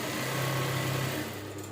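A sewing machine stitching a seam on short trousers hums in a fast, steady mechanical whir, close and continuous for the whole short stretch, with no speech.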